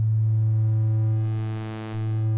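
A synthesized sine wave tone generated in TouchDesigner, a steady, loud, low pure hum that holds for a couple of seconds with a brief dip in level near the end, with no talking.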